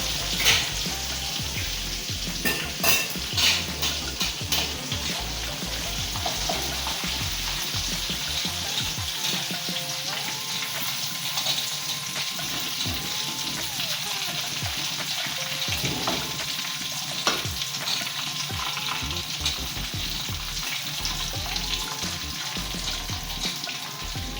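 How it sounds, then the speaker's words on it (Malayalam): Chicken pieces frying in coconut oil for a Kasaragod-style biryani give a steady, dense sizzle that runs throughout, with occasional stirring clatter and soft splashes, close and continuous with no talking. "ചിക്കൻ നന്നായി ഇതാ പൊരിഞ്ഞിട്ടുണ്ട്."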